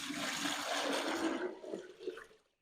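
Water pours into a 5-liter drinker for broiler chickens, a close, rushing stream that trickles and gurgles before cutting off.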